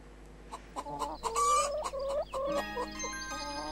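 A hen and her chicks cluck and peep outdoors, the hen's throaty clucks mixing with high thin chick cheeps in a busy, continuous stream at close range.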